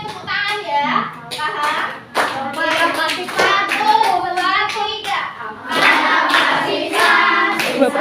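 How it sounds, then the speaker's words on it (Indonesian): A class of children clapping hands along to a song in a classroom, steady rhythmic claps mixed with young voices singing throughout. "tolong iringi musiknya tepuk tangan ya"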